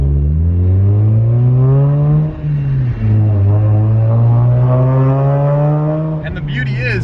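Mazda RX8 R3 rotary engine fitted with a cheap eBay exhaust, revving and pulling through the gears in a loud, smooth, rising hum with brief dips between shifts, heard close up from inside the car.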